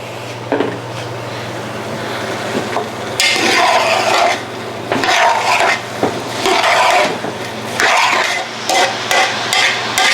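A spoon scrapes and stirs onions and green pepper frying in a pan over a high gas flame, in loud bursts of sizzling and scraping over a steady low hum, with no talking.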